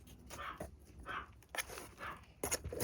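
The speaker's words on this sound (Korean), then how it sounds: "강아지가 짖는다." A dog barks in short repeated bursts, several sharp yaps spread across a few seconds, heard indoors at moderate loudness over a faint background hum.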